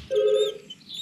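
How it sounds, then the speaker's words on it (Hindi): A telephone rings in a Bob the Builder cartoon: one short, bright electronic ring tone, clear and close, fading quickly with no voices over it. "किसी का फोन है।"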